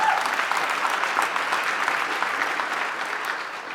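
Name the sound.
audience applause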